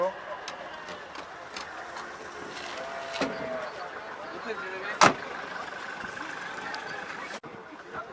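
A used car with a 1.6 litre petrol engine, manual gearbox and 228,000 km on it idles at a car market in Khujand, giving a low, steady hum. Small clicks and one sharp knock sound over it, with voices nearby.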